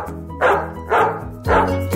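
A pet dog at home gives three loud, close barks in quick succession, each a short sharp burst with brief pauses between.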